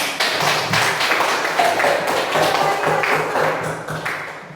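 A class of students claps hands together in a classroom, a brisk run of overlapping claps that carries steadily for several seconds before tapering off at the end.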